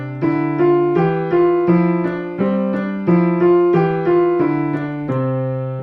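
Piano playing a two-to-one hands-together finger exercise, the right hand striking two notes for every single left-hand note in a steady, even rhythm, played alone at moderate loudness.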